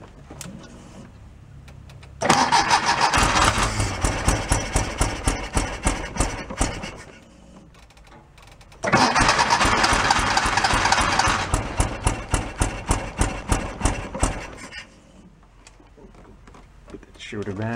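Engine of an abandoned Porsche 914 station wagon cranks in two long bursts of rapid rhythmic starter chugging, each fading as it slows, with quiet pauses between and no catch.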